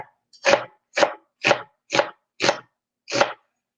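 Knife slicing an onion on a cutting board for soy curl fajitas, six crisp, evenly spaced cuts close up with short silences between them.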